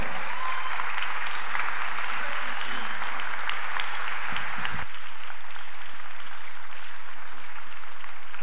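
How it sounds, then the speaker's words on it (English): A church congregation applauds loudly and continuously, a dense wash of clapping over a low hum, with a brief shift midway. "Let's give the Lord a clap offering."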